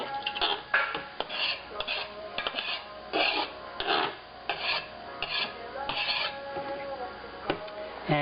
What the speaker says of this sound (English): So we're just going to scrape and put that in, and we're also going to put the rest of the ginger in here.